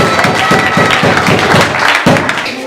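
A church congregation claps hard in quick rhythmic bursts at a service, loud and close, the applause steady for a few seconds before easing off.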